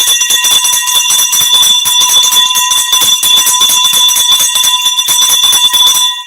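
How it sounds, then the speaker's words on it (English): A ringside bell at a wrestling event rings continuously and loudly, a rapid metallic clanging trill held for about six seconds with bright ringing overtones. "Folks, we have a bell."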